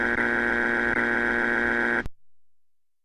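A Family Feud-style game show buzzer blares as a harsh, loud, sustained electronic drone for about two seconds, then cuts off abruptly into silence.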